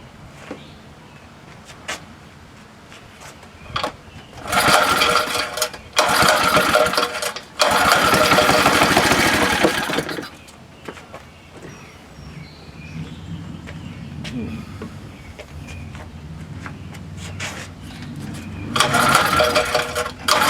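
A 1961 Briggs & Stratton small engine runs with a rough, buzzing drone, surging loud in bursts and then settling to a lower idle before revving up again near the end.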